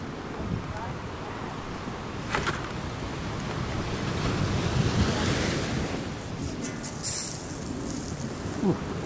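Strong wind gusts buffet the microphone as waves wash in on the Chesapeake Bay shore, a loud continuous roar that swells and eases, with occasional bird chirps.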